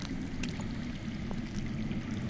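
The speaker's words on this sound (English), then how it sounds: "I hear water. From underground." Steady low rushing of underground water flowing in the Game of Thrones Telltale video game, a continuous murmur heard alone with a few faint clicks on top.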